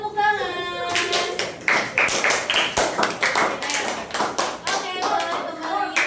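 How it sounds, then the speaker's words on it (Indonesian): A classroom audience claps in a sustained round of applause, dense overlapping hand claps with a few louder bursts, steady and fairly close throughout. "Beri tepuk tangan"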